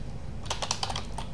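Rapid keystrokes on a computer keyboard while entering a search query, a quick burst of close clicks over a steady background hum.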